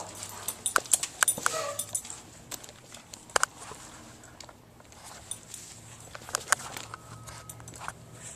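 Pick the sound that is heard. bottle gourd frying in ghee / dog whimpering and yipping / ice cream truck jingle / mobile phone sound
dog whimpering and yipping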